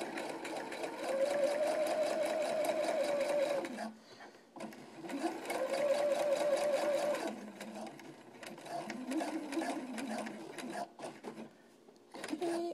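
A sewing machine straight-stitches along the edge of an all-in-one cloth diaper in close, steady whirring runs of a few seconds each, separated by brief pauses.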